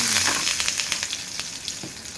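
Two dried red chillies and a sprig of curry leaves fry in hot oil for a peanut chutney tempering, giving a close, dense, steady crackling sizzle with sharp pops and no voices.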